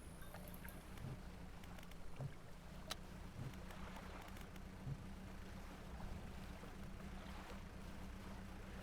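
Boat engine noise in a fishing video game chugs faint and distant, a low steady rumble with soft watery wash and occasional faint clicks, no voices.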